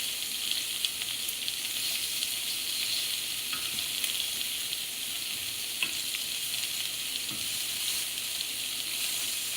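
Shrimp sizzle steadily in a hot pan after being flipped, a dense continuous frying hiss with faint stirring clicks, close and uninterrupted, with no talking.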